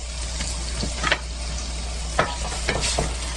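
Bellflower root is stir-fried in an oiled pan over medium-low heat, with a soft steady sizzle under several distinct scraping stirs of the spatula spaced irregularly through the short stretch.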